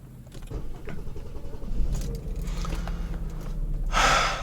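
A Peugeot V6 car engine cranks and fires up, settling into a steady idle rumble with a rising burst of noise near the end.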